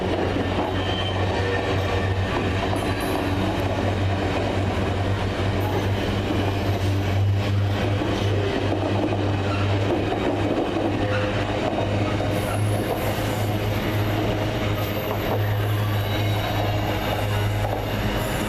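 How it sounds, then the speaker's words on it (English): A Class 222 train rolls into a station with a continuous low rumble, wheels clacking and occasional high squeals of braking, heard at a moderate distance without talk. "That train leaves, here comes the one we're getting on."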